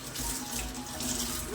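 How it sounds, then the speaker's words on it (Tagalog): Tap water runs steadily from a faucet into a sink as garden vegetables from a backyard plot are rinsed, a continuous close splashing stream with no talk. "Alright, Kakridas, hugasan mo natin"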